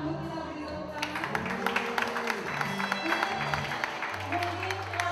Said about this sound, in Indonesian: Kita sambut, kita beri tepuk tangan.